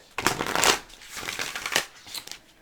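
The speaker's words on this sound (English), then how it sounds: "That was not the greatest shuffle." A deck of tarot cards being shuffled up close, a couple of riffling bursts followed by softer shuffling and taps.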